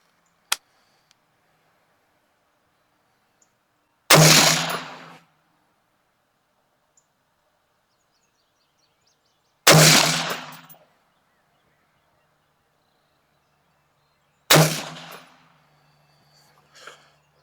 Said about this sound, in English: let's shoot 3 shots at that bottom left while we're recording